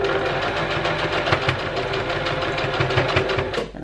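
Sewing machine back stitching a fabric face mask, a steady fast mechanical whirring and rhythmic needle clatter running close and continuous for a few seconds.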